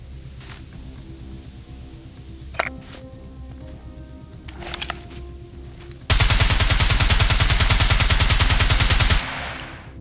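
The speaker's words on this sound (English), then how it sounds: "you can actually break down duplicate weapons that you might find in the game and turn them into weapon parts" Duplicate weapons are broken down into weapon parts in the survival game SCUM: a few sparse metallic clinks, then a loud, dense three-second rattling burst of dismantling noise that cuts off abruptly.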